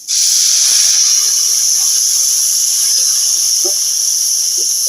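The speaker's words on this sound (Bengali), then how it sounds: "আমি এখানে গরুর দুধ নিয়েছি, দুধটা দিয়ে দেব" Cow's milk hits a hot pan with coconut filling, sugar and semolina for Bengali patishapta pitha, raising a loud, steady, close hiss of steam that holds evenly for several seconds.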